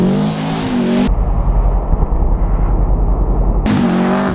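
A Subaru WRX on winter tires revs hard while drifting, a loud, close, sustained engine roar with rising throttle, framed by short bursts of noise before and after.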